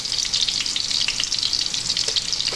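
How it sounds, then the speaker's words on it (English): Ginger and garlic frying in hot oil in a wok for Chinese pork ribs, a steady close crackling sizzle with no one speaking. "Just spin that around in a nice hot oil there."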